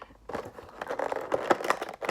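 Toy figure packaging for a Masters of the Universe Ninjor being cut open: soft, close crinkling and snipping of plastic and cardboard with irregular crackles, fairly quiet, no voices.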